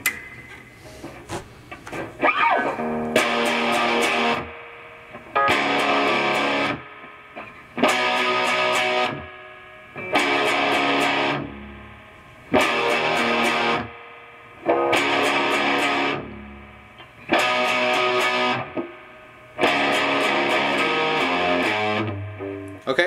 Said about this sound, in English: let me turn on my distortion pedal